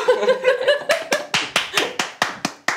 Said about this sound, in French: Du coup, il n'y a qu'un applaudissement.